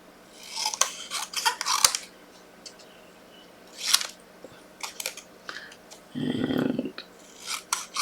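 Scissors cutting down a piece of card for a handmade boy's card shaped like a number plate, heard as several short crisp snipping bursts at close range, with a low murmur of speech partway through.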